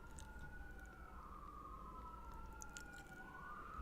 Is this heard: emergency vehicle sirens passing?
yes